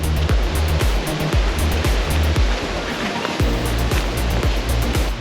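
Palm Creek on Cape York rushes along in a dense, steady wash of flowing water, loud and continuous, with a rhythmic low thumping running underneath.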